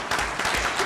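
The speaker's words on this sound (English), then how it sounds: "So please, again, give them another round of applause." An audience at a community board workshop awards segment claps in a brief, dense burst of applause, close and fairly loud.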